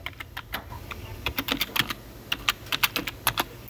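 Quick keystrokes on a computer keyboard as a password is entered, a run of close, crisp clicks in uneven bursts with short pauses, no voices.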